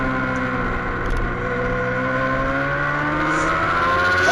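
A racing motorcycle in a Formula Femme road race final accelerates hard on the throttle, its engine note climbing steadily in pitch, loud and continuous with no voices over it.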